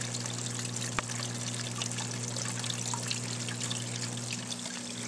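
Water trickles and drips down through a hollow log in an Exo Terra dart frog vivarium, a soft continuous flow with small splashes over a steady low hum, close by with no talking.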